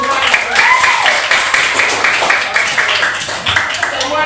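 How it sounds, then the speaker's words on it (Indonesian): A classroom of students claps for a classmate, loud close clapping mixed with children's voices throughout. "kita beri tepuk tangan untuk Raja."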